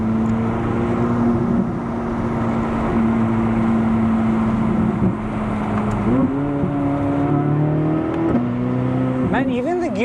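A Corvette C8 Z06 engine drones steadily, then climbs in pitch through quick dual-clutch upshifts, each shift a sharp drop and rise in tone, loud from inside the cabin with someone talking over it.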